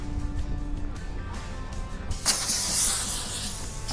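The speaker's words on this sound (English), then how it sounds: "the air is dumping out of the flip axle, opening up the joint" Compressed air dumping out of a flip-axle trailer's air suspension, a sudden loud, broad hiss that bursts in midway after quieter mechanical background and continues steadily to the end.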